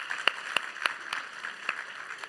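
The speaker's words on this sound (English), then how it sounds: "Can we get an applause on that, please?" Sparse, scattered claps from a few people in a conference audience, about six distinct sharp hand claps spread irregularly over a quiet background.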